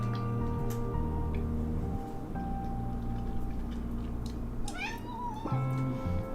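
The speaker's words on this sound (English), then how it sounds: "There's a cat." A house cat meows several times nearby, rising and falling calls over a steady background hum and soft ticking.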